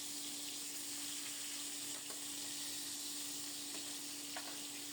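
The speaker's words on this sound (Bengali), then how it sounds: "ইলিশ মাছের পিসগুলো লবণ হলুদ মাখিয়ে এপিট ওপিট করে একটু ভেজে" Turmeric- and salt-rubbed hilsa fish pieces frying in oil in a kadai, a faint, steady, even sizzle with an occasional soft tap, continuous and quiet throughout.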